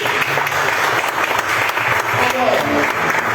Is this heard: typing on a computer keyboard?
no